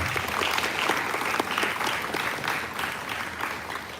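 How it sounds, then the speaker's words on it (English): At a sixth form executive council leadership summit, the audience gives a big round of applause to the parents, sustained crowd clapping at a strong, even level that eases off slightly toward the end, with no speech. "Huge round of applause to all the parents"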